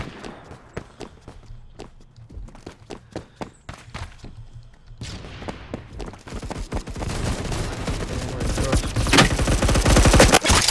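Rapid shotgun blasts from a Roblox Phantom Forces first-person shooter match, a sparse run of sharp shots giving way to dense, loud overlapping gunfire that builds steadily toward the end.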